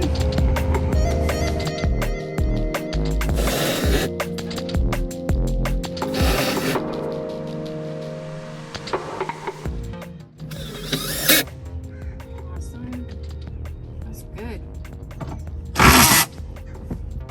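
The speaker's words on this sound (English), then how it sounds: "Screw it in." Ratchet tool driving a screw during a van conversion of bench seats in a RAM ProMaster 1500: rapid close clicking ratchet bursts, repeated several times with short pauses and a few knocks in between.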